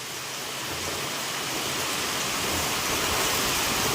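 A sudden downpour pounds a corrugated metal sheet roof in a continuous, heavy hiss that grows a little louder over the few seconds. It is close and uninterrupted, with no talk.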